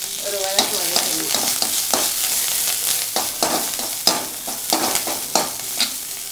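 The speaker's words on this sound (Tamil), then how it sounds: "அதையும் போட்டு இதில் ஒரு வதக்கணும்." Coriander, green chillies and curry leaves sautéed with dried red chillies in a pan, a bright close sizzle punctuated by regular scraping strokes of a spoon against the metal.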